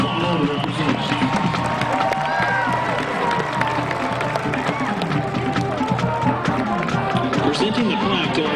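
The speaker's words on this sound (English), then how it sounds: "Let's have a round of applause for all the representatives." A crowd cheers and claps at a football homecoming, a dense, continuous wash of applause and voices mixed with an announcer's voice over a public address system.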